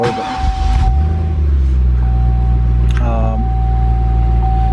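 A 2005 Cadillac CTS-V with a six-speed manual is cranked and started, its engine catching after a brief rising starter whine and settling into a steady, close idle rumble.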